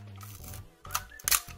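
A Nikon FE2 film camera's mechanical shutter fires in a few quick clicks with soft winding clatter, close and fairly quiet, with no talking.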